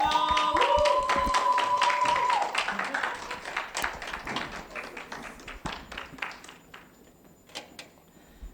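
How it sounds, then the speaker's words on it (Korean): A chapel audience at a seminary Thursday service breaks into applause to welcome the guest pastor, a dense burst of clapping that thins into scattered claps and fades out. "강사 목사님 나오실 때 큰 박수로 환영해 주시길 바랍니다"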